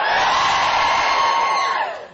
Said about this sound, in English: Can you give me a cheer if you're a student?